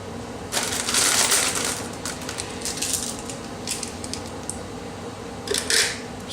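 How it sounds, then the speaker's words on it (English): Rifle cartridges pressed one after another into an AK-47 75-round drum magazine, giving close, fairly loud metallic clicks and scraping rattles in irregular bursts, with no talking. "Just fill all these spaces, even these little holes right here, you've got to fill with ammo."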